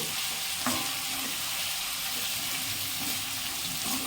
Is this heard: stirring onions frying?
yes